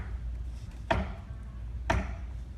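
Two sharp strikes about a second apart on a hard object, each with a short ringing tail, fairly quiet over a low background hum.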